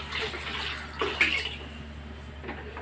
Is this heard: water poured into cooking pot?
yes